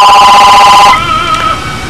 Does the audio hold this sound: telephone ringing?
yes